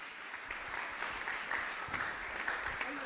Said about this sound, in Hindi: जोरदार जोरदार तालियां आपकी, दोनों हाथ ऊपर उठ करके